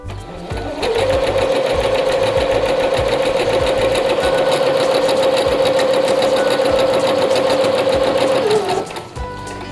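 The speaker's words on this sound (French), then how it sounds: "Refaites la même opération en cousant un deuxième fil de fronce à 5 mm du premier." A sewing machine stitches a second gathering thread through fabric, 5 mm from the first, running in one steady, fast, continuous whir for about eight seconds before slowing to a stop.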